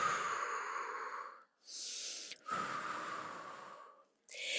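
Slow, deep yoga breaths, close and audible, with two long exhalations through the nose or mouth separated by a quick inhale and followed by another short intake, without any talk.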